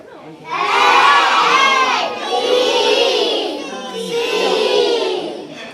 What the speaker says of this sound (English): we're all gonna yell out the letter when we see it